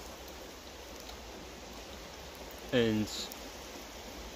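Steady rain falls outdoors, a dense even hiss of drops on surfaces that runs throughout, briefly interrupted by a single spoken word from a man close by.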